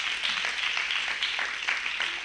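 A church congregation applauds steadily for a short burst, a bright, even patter of many hands clapping with faint voices mixed in.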